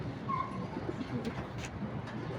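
Pigeons coo softly on a rooftop coop, a few low rolling calls close by over faint background noise, with no speech.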